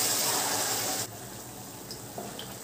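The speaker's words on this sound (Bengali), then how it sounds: "এখন দিয়ে দিলাম 1 কাপ জল" Water pours into a pot of Bengali mixed-vegetable curry, a steady gushing stream that runs loud for about a second and then drops to a faint trickle, with small splashes near the end.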